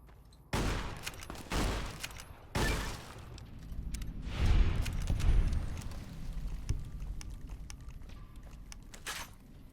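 Shotgun blasts in Fallout: New Vegas, several heavy booming shots spaced a second or two apart, followed by a rumbling stretch of combat noise and a final shot.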